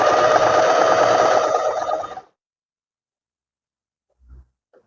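Sewing machine running in one steady continuous burst while stitching close along a vest's square neckline, loud and near for about two seconds, then stopping abruptly into silence with a couple of faint small knocks.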